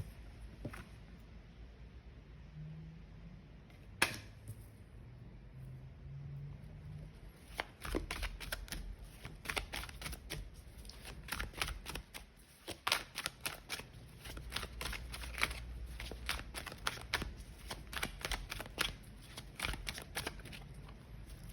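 Tarot cards being shuffled and drawn up close, quiet at first with a single snap, then a long stretch of rapid riffling flicks and slides in uneven bursts.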